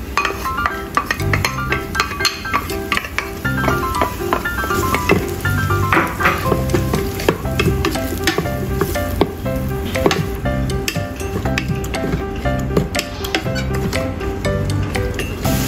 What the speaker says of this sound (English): Stir fry onion until fragrant